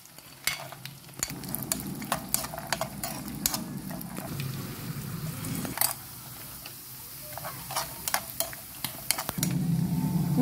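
Cashews frying in ghee for boondhi laddu, a steady close sizzle with frequent sharp clicks and taps of a spoon stirring against the pan.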